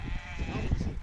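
Sheep on a farm near Azrou bleat in a short, close, moderately loud burst of overlapping calls, with no talking.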